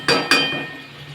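A spoon stirring chicken cooking in yogurt in a pot gives two quick metallic clinks close together, close and clear, then fades into a quiet simmer with no talk.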